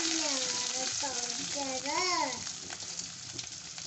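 Onion hits hot oil with popped mustard seeds and cumin for a capsicum stir-fry, giving a steady close sizzle while a voice speaks over the top.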